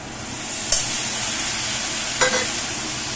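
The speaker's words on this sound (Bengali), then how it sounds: "এই যে দেখছো এটা হচ্ছে আমি ছোলার তরকারি করছি" Chickpea curry fries in a pan with a steady close sizzle, broken by two brief scrapes of a spoon stirring, with no talk.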